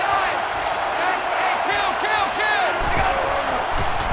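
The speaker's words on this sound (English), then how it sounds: "One of the loudest crowds in the country, and they are on their feet." A roaring stadium crowd in NCAA Football 14 at a Notre Dame vs Alabama game, one of the loudest in the country, cheers steadily with whoops and shouts, loud and continuous, with cheer swells rising near the end.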